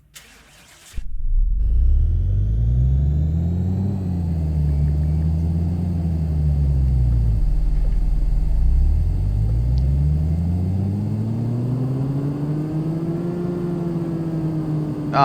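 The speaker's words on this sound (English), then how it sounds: "let's move you over to the dyno shop. See just how many ponies this little i4 can throw down" A small inline four-cylinder car engine on a dyno in Car Mechanic Simulator 2018 starts up, then drones loudly and steadily as it revs up and down in long sweeping swells, alone with no voices.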